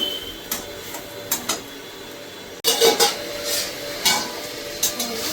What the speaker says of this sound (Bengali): এবার মশলাটাকে আমি একটু ভালো করে কষিয়ে নেবো।